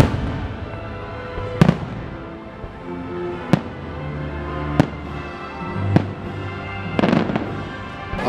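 The Wishes nighttime fireworks show at Magic Kingdom, heard from Frontierland. Five or six loud, sharp booms sound several seconds apart, each ringing out over a low crowd hum, with a quicker cluster of crackling bursts near the end.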